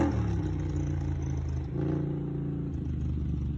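Polaris 850 engine running with a cheap eBay exhaust and its baffle fitted, a steady low rumble close by with a brief revving swell midway, fairly subdued overall.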